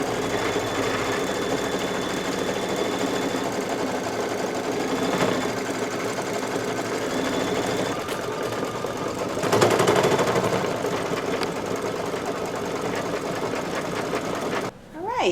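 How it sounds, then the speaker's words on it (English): A computerized embroidery machine works through dense satin stitching in dark green thread on a Kimberbell quilt block. Its rapid, steady mechanical whir runs continuously and stops abruptly at the very end. "now it's ready to do that big bunch of satin stitching."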